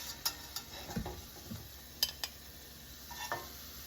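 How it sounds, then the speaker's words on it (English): Ground beef browning in a pan gives a faint, steady sizzle with scattered soft scrapes and light taps from stirring, close by and without talk. "we're going to cook this down till it's browned up"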